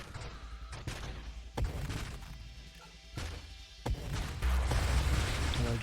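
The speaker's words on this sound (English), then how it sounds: "And I just love that shockwave explosion," Shockwave explosions in the space shooter Nova Drift tear through swarms of tiny ships, a run of sharp booming bursts and thuds rising over a constant dense rumble of weapon fire, growing louder and busier toward the end.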